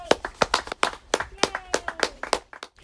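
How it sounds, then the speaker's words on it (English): Brisk hand claps ring out in a quick, fairly regular run of about a dozen sharp strikes, loud and close, sounding like a small group applauding a 2020 high school graduation. "can we get a quick clap up"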